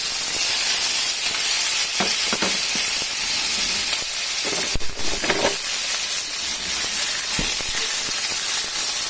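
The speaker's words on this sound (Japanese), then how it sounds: "we want to make golden color on the chicken" Chicken browns in a pan with a little oil for Japanese-style spiced curry, giving a loud, steady, close sizzle and hiss throughout, with a few brief scraping stirs breaking through.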